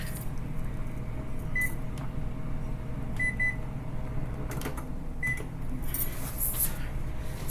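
A kitchen cooker appliance gives short, high electronic beeps, single and in quick pairs, spaced irregularly over a steady low hum of room noise, with a few faint clicks between them.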